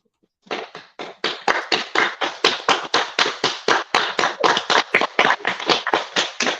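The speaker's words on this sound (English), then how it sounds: "That's real claps, people. That's not automatic." A small live audience claps in a regular rhythm, each clap sharp and distinct, about three per second and close up. The clapping starts after a brief silence and holds steady to the end, with no talk over it.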